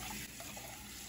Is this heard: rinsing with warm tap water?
yes